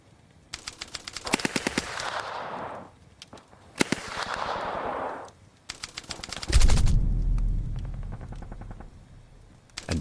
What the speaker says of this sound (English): The Paras hit the dirt, just as Baumann and Body open fire